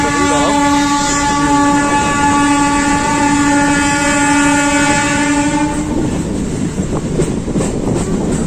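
MEMU train on the Howrah to Ghatshila route sounding a long, loud sustained horn close by over the rumbling run of the carriages, the horn cutting off to leave rattling wheel noise.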